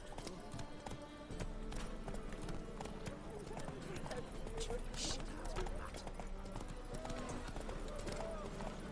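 Horse hooves clip-clopping steadily at a trot in The Witcher 3 video game, a continuous rhythmic patter with game ambience and a voice speaking over it.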